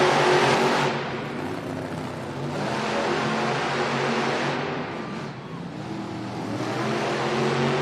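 Monster truck engines rumble and rev loudly at the starting line before a Monster Jam final-round race, a dense roar that swells and dips in broad surges with faint crowd noise beneath.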